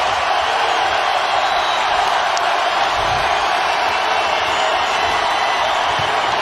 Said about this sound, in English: Crowd trying to rev the Celtics up